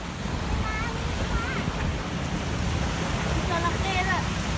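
Morning surf and steady wind at Suan Son beach in Rayong, Thailand, a continuous wash of waves with wind rumble across the microphone, and brief faint whistling tones above.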